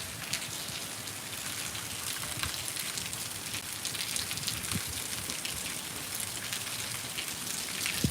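Heavy monsoon rain pours steadily over waterlogged farm fields, a dense, even hiss of drops beating on surfaces that holds constant and close throughout, with no voices over it.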